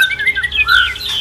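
A white-rumped shama (murai batu) sings close by, a quick run of bright, varied whistles and trills that rise and fall without pause for about a second, with no talking over it.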